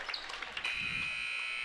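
A basketball game's buzzer sounds to end the first quarter: a long, steady, piercing electronic tone held to the end, rising out of faint arena noise.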